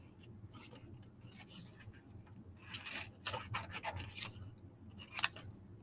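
Scissors snip through paper graphs in bursts of rasping, rubbing cuts, near and moderately loud, with a louder crisp snip toward the end and soft handling noise between.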